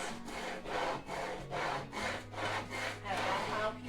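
A small handheld scraper rasps across a kitchen surface during cleaning, making a steady rhythm of about eight quick back-and-forth strokes. The scraping is soft and close, with no one talking over it.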